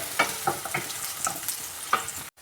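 Sugar stir-fried in ghee in a pan for a quick pudding gives a steady close sizzle, with a spoon scraping and stirring at intervals throughout.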